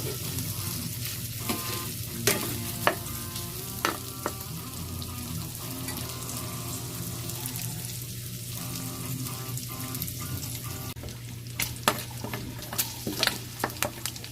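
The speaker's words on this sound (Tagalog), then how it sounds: "Dito tayo magigisa sa sarili niyang mantika." Meat sautés in its own rendered fat for adobong sitaw, giving a loud, continuous close sizzle with occasional clinks and scrapes of stirring.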